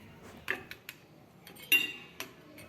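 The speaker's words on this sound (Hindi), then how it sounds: "इनकी आवाज़ भी आपको फील करवाती हूँ कि ये कितने क्रिस्पी बने हैं" Several sharp crunchy cracks and clinks of a knife cutting crispy vegetable spring rolls against a plate come in short, irregular bursts, close and crisp against quiet.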